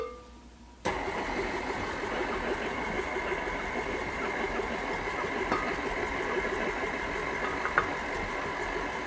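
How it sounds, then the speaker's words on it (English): A KitchenAid stand mixer with a side-scraping attachment starts up and runs at a steady, continuous mechanical whir, fairly close and loud, with no talk over it. "Now I'm using a great attachment for my KitchenAid mixer"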